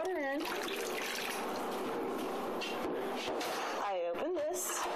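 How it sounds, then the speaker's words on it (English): Water poured from a cup into the reservoir of a Keurig coffee maker, a steady trickling pour heard up close, with a voice speaking briefly at the start and again near the end. "I pour my water in"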